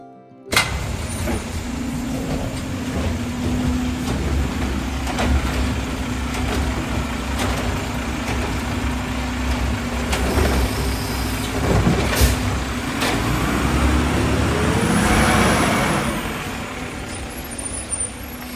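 A road vehicle arrives on trash collection day with a continuous, fairly loud engine rumble nearby, a brief surge and hiss toward the end, and no voices over it.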